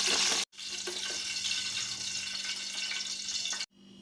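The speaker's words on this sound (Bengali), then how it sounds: "ঝিঙে আর পটল খুব ভালো করে ভেজে নিয়েছি" Pointed gourd and ridge gourd fry in oil in a pan, giving a steady close sizzle with a brief gap early on and the sound cutting out near the end.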